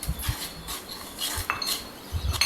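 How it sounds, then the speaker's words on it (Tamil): Spice masala being sautéed in hot oil in a pan, with scattered metallic clinks of a utensil stirring against the cookware, fairly close and with no voices. "நல்ல மசாலாவை வதக்கி விட்டுக்கணும்."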